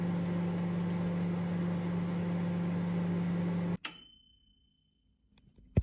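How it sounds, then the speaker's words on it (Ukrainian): A microwave oven hums steadily for several seconds, then stops abruptly with a click, followed by near silence and a faint final clunk. "Включаємо наш таймер мікрохвильовку і чекаємо 8 секунд."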